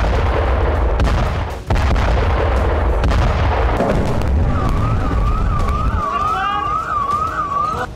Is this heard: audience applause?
no